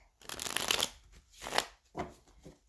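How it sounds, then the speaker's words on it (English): Tarot cards being shuffled in several quick riffling bursts, close and crisp, separated by short pauses. "Let's do one more shuffle. Cut the deck."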